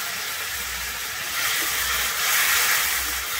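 Water from rinsing a grinding stone hits hot, well-fried spices and tomato in a pan, giving a loud, steady steam hiss that swells slightly toward the end.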